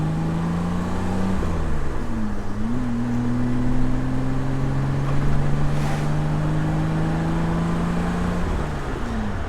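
A BMW E30 engine drones steadily from inside the car, its pitch sliding down and back up with gear changes and throttle, a loud continuous hum with no talk.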